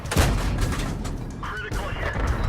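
Tank cannon fire in World of Tanks: a sharp blast opens the clip, with further booming shots and rumbling battle noise layered through a busy game soundscape.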